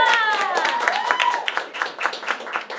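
Audience at a New York cosplay cabaret clapping for the performers, a dense burst of close applause that gradually thins, with a voice speaking over the start.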